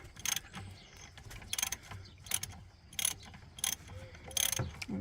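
Repeated ratcheting clicks in short bursts as a screw is worked loose from the EGR valve of a 2008 Dodge Durango, close and moderately loud with brief pauses between strokes.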